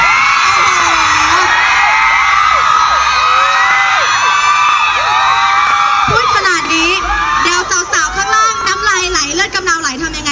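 A concert or talk-show crowd screaming and whooping for an idol, a sustained wall of high-pitched shrieks and cheers that swells and grows choppier toward the end.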